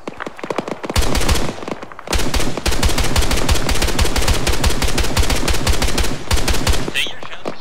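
Sustained automatic gunfire in the Arma 3 combined-arms military game, dense rapid bursts running almost nonstop for several seconds after a short quieter opening, loud and close, with faint radio chatter underneath.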